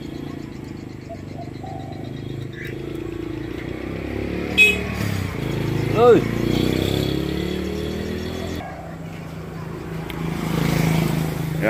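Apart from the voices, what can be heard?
old Evinrude 12 hp outboard engine running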